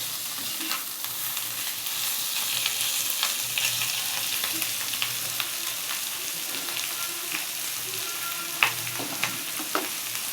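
Bitter gourd frying in a pan over a high flame, a steady bright sizzle running throughout with occasional sharp pops and light utensil scrapes as it is stirred.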